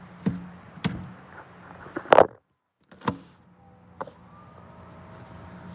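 A car's power window moves in short bursts. Several sharp clunks and motor whirs come up close against a quiet background.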